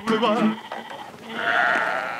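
Sheep in a field near Elmshorn, northern Germany, bleating in a drawn-out call that rises in the second half, after a voice talks over the opening moments.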